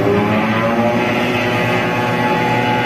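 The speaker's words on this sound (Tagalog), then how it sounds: "compressor running, system number 2." A chiller compressor runs in a building plant room, a loud steady droning hum with tonal whine, unbroken throughout and with no voices.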